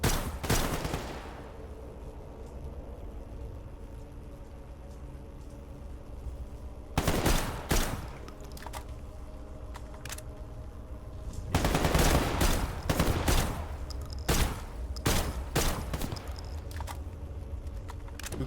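Automatic gunfire from weapons in the video game Stalker GAMMA, with loud rapid bursts, a short one and then a longer sustained run of shots over a low ambient game background.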